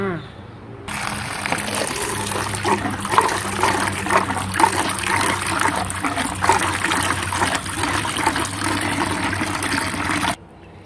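Mangoes being washed in water to rinse off their sap, a steady splashing and trickling that runs nearly unbroken for about ten seconds before stopping, with no talk over it.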